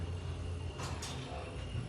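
Two-speed center-opening doors of a ThyssenKrupp Synergy elevator in a Madrid supermarket slide with a pair of quick whooshing sweeps over a steady mechanical hum and background noise.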